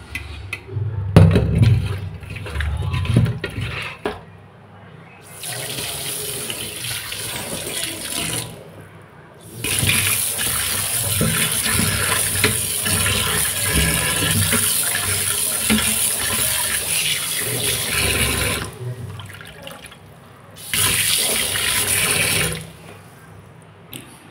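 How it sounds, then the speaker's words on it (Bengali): Fish is rinsed with salt under a running tap in a kitchen sink. Water gushes steadily in several long bursts with short quiet gaps between them, near and fairly loud. "মাছ ধুয়ে নিলাম পরিষ্কার করে লবণ দিয়ে"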